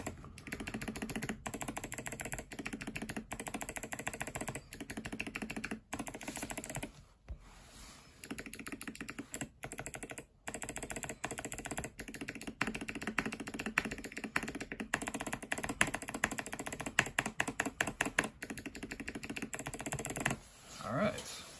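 Steady typing on a mechanical keyboard fitted with NK Cream clicky switches: sharp, crisp clicks in quick bursts with brief pauses, close and clear, with occasional speech in the background.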